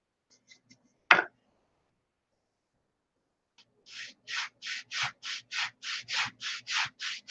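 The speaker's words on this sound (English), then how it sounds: "Hand belt sander. Got to make sure all them joints are tight." A hand belt sander works the joints of a control line stunt model cowl: one sharp bump, a pause, then about a dozen close, regular rasping strokes in steady rhythm, with no talk.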